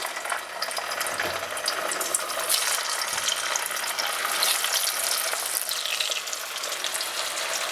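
Potato wedges laid into hot frying oil, a loud steady sizzle and crackle close by, continuous hissing with brief bursts as pieces go in, no voices.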